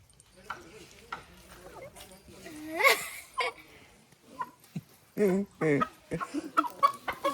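A chicken gives several close clucks and squawks in bursts near the end, mixed in among people talking nearby in a rural home setting.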